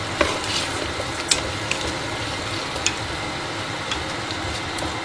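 Potatoes and marinated chicken sauté together in a pan for a stew, giving a steady close sizzle with a few sharp ticks and pops, alone with no voices.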